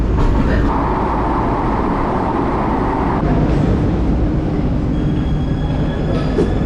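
A Bucharest metro train rides through the subway with a loud, continuous rumble and rattle of wheels on track, with faint squeals rising over the steady roar.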